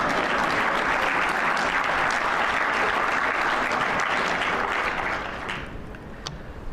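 An audience at a finance day event in Botswana answers a speech with loud, dense applause that holds steady for about five seconds and then fades away.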